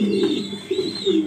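A female pigeon of the Anar-eyed Super Mili breed cooing close by, a few soft, rolling low coos in quick succession without talk.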